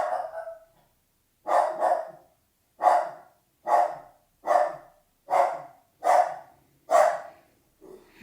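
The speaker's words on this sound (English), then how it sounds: "Please excuse my mouthy dog." A dog barks loudly nearby in a home craft setting. After one opening bark and a short silence, about seven evenly spaced, deep barks follow in a steady rhythm, with no talking.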